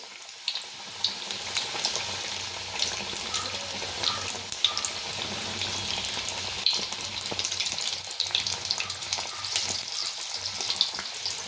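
Chicken lollipops deep-fry in oil over a medium flame, giving a steady, fairly quiet hiss and crackle that runs unbroken throughout with no voices.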